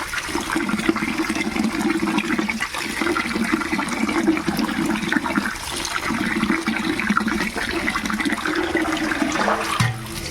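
Water pours steadily over fish, a continuous splashing stream that runs close and loud throughout before tapering off at the end.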